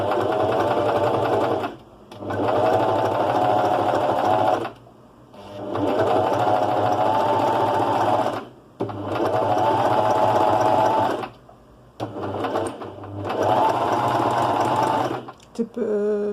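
A sewing machine runs a zigzag stitch around a rounded fabric corner in close, loud bursts of rapid whirring, separated by short pauses.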